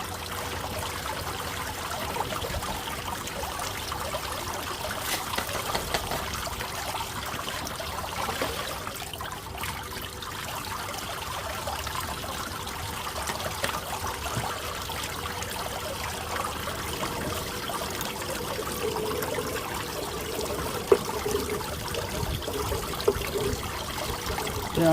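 Water runs in a steady trickling flow into a bucket, a continuous splashing wash that holds fairly even throughout at moderate level with no talking.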